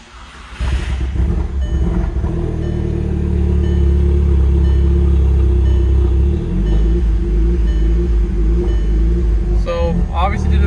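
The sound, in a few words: car engine being started and run in a repair shop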